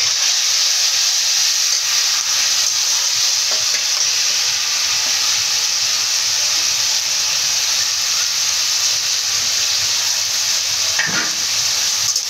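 Tomato paste frying with browned grated coconut in a pan for a coconut chana dal, giving a loud, steady sizzle and hiss that runs unbroken throughout, with no voices.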